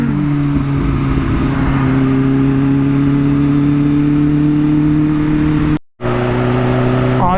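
A Kawasaki Ninja H2 motorcycle rides at night on a busy city canal road, its engine droning loud and steady at high revs with a brief cutout near the end before resuming.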